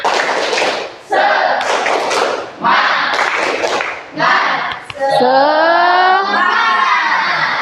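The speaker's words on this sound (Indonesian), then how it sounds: "Tepuk semangat." Rhythmic 'tepuk semangat' clapping by a class of students in a school physics lesson, bursts of patterned hand claps separated by short pauses, followed by a chanted group voice and a held tone near the end.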